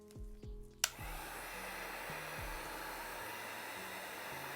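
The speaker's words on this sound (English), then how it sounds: "I'm going to take my heat gun, and on this part right here, I kind of just move it back and forth" A heat gun switches on with a sharp click and then blows a steady, close, loud rushing hiss while being swept back and forth over a tattoo stencil.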